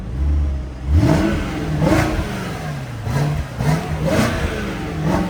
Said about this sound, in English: let's show everybody how the engine sounds